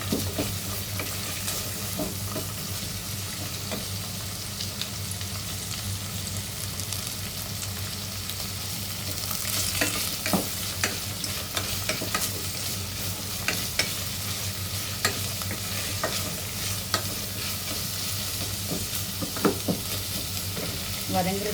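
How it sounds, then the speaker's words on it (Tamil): Onion, green chillies, mint, coriander and curry leaves sauté in a pan for a salna, a constant near sizzle broken by frequent scraping and clacking of a stirring spoon, with no voices. "வதங்குறதுக்காக கொஞ்சம் உப்பு போடுறேன்"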